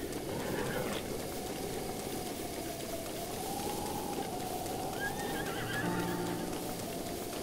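A horse whinnies in The Legend of Zelda: Breath of the Wild, the neigh rising and falling over a steady game soundscape of ambient music and hiss, with a faint clip-clop of hooves.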